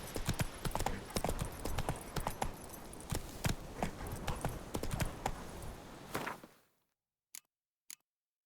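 Hoofbeats of the horse Roach trotting in The Witcher 3 game, a brisk close clip-clop rhythm lasting about six seconds before fading out, followed by two isolated hoof taps in near silence.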